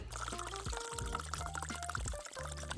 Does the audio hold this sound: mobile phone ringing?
no